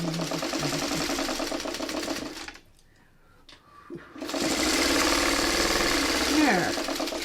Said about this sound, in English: Now we finished sewing it one way, all of it one way.